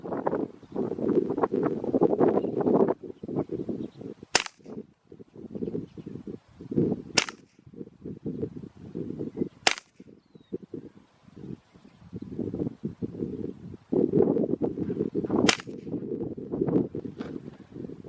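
Suppressed .22LR rifle shots fired outdoors give four sharp, loud cracks spaced a few seconds apart, set against steady wind and rustling.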